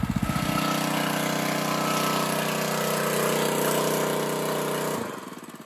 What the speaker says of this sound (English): I think they're attracted to the pump noise, or maybe the exhaust from the pump.